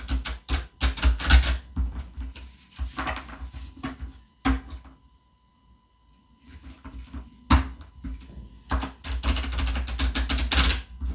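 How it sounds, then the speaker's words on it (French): Playing cards being shuffled by hand, with bursts of crisp riffling and tapping in several separate rounds, a short quiet gap in the middle, close and fairly soft. "Là, maintenant, c'est pour mélanger les cartes."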